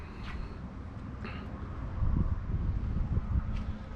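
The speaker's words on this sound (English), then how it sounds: "It's super windy in the back of the house" Strong wind buffeting a microphone outdoors behind a house, a continuous low rumbling roar that swells and gusts, with faint rustling on top.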